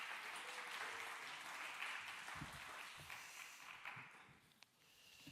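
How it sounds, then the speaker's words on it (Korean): Applause from a church congregation welcoming the pastor at a service, a broad steady patter that thins toward the end with a few scattered footsteps. "우리 목사님 나오실 때 큰 박수로 환영해 주시기 바랍니다."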